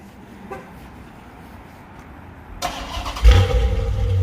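A 2010 Chrysler 300 SRT8 with a mid muffler delete, sitting all day, cranks briefly and then fires into a loud, rumbling cold-start idle that lingers close by without any talking.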